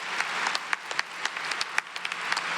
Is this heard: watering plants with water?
no